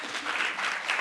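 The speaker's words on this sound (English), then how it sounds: "let us give ourselves a round of applause" Delegates at a women parliamentarians' meeting clapping for themselves, a brief, even wash of many hands clapping at moderate volume with no voices on top.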